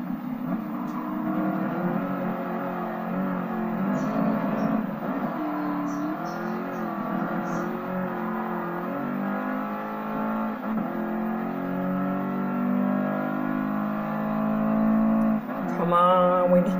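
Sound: sports car engine revving in a Gran Turismo Sport video game

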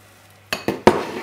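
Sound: stirring rice and Parmesan cheese in a dish

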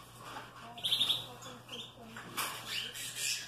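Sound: pet bird chirping in its cage

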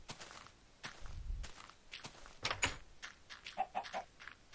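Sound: chickens in Minecraft video game

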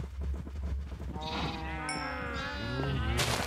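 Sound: cows in a Minecraft-style video game

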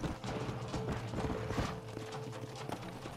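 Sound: horse galloping in video game Red Dead Redemption

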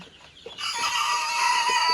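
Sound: chickens clucking on a Fayoumi poultry farm

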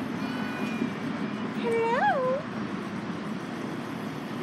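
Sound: cat meowing

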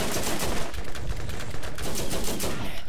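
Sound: machine gun fire in Borderlands video game

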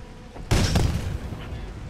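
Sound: explosion in video game Titanfall 2

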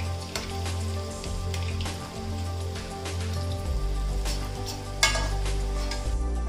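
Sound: mixed vegetable pakoras frying in oil

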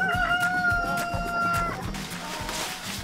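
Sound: chickens outdoors

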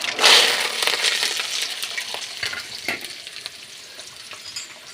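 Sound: mustard seeds, garlic, onion and curry leaves frying in oil

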